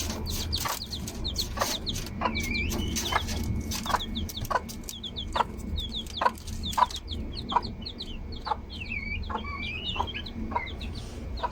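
Chickens clucking in a backyard coop with chicks around, a steady series of close, sharp clucks and short calls repeating every half second or so, with chirps layered on top and no speech.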